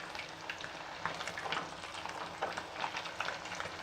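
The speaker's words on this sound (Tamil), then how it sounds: "பாருங்கள், மீன் நல்லா பொரிஞ்சிருச்சு." Pomfret fish, a Tamil-style meen varuval, fries in hot oil with a dense, continuous crackle and sizzle broken by sharper pops throughout, close and fairly quiet, with no talking.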